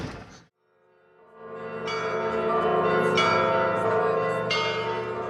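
Church bells ring on Mykhailivska Square, several bells pealing loudly and sustained with resonant overlapping strikes, after a short voice at the start and a brief pause.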